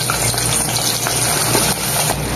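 Potatoes fry in a pan for a papaya and potato curry, giving a loud, continuous sizzle close to the listener with faint stirring scrapes underneath.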